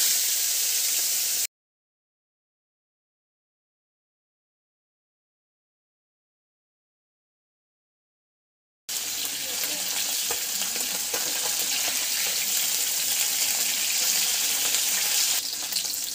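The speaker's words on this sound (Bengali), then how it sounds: "কড়াইয়ে তেল বসিয়ে তেল গরম হয়ে গেলে একে একে মাছগুলোকে দিয়ে দিচ্ছি" Bata fish fry in hot oil in a wok, with a dense, crackling sizzle at the start, several seconds of complete silence, then the steady frying hiss again.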